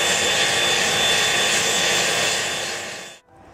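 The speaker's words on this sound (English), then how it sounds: "turning on the blower, which supplies lots of oxygen to the fire and makes it get really hot" Forge blower roaring steadily on a charcoal forge used for melting aluminium, a loud constant broadband rush that cuts off abruptly near the end.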